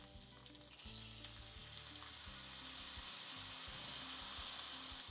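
A yogurt and gram flour mixture is stirred into cooked potatoes and okra in a pan, producing a quiet, steady sizzling hiss with soft scraping, faint and close, under a low background music bed.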